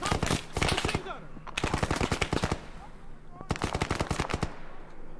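Three loud bursts of rapid machine gun fire from the game Arma 3, each a fast run of sharp shots lasting roughly a second, separated by short gaps, with faint voices under the shooting.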